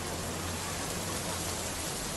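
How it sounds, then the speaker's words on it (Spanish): Rain falls on a grey afternoon in Buenos Aires over the Río de la Plata, a soft, steady, even hiss of countless drops heard faintly with no voices. "al espejo marrón del Río de la Plata lo sacuden millones y millones y millones de gotas de lluvia"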